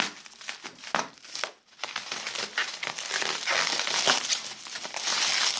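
A plastic package is pulled off a Bluetooth joystick from a shipped parcel, with close, busy crinkling and crumpling that comes in bursts and then grows more continuous.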